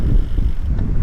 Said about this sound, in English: It's windy, we got a storm blowing in